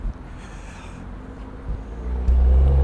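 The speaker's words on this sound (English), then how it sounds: "I've asked him to drive in again because his car just looks so sick." A BMW M2 LCI with an exhaust rattle pulls in, its engine a low steady rumble that swells louder and closer toward the end, with no talking.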